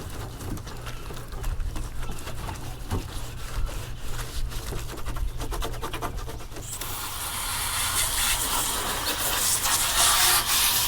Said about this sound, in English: now we got to scuff it up so the paint helps on the bond too